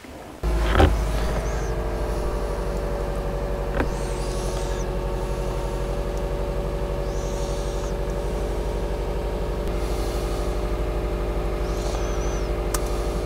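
A Subaru Forester XT SH5 engine idling steadily on a test run, a continuous close mechanical drone that starts abruptly with a short rise, then holds a smooth even hum.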